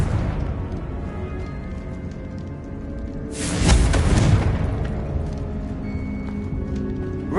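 A Confringo fire spell cast in a video game bursts into a broadband blast at the midpoint, rising sharply and rumbling briefly before fading back under a steady background of game ambience.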